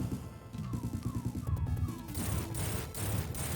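Rapid bursts of rocket fire from the video game Sonic 3D Blast: Director's Cut, a dense clattering barrage with descending whistling tones, loud and continuous with crashing impacts throughout.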